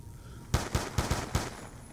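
Five quick, evenly spaced gunshots ring out in Black Ops 2 Zombies, punchy and moderately loud over a low background hum.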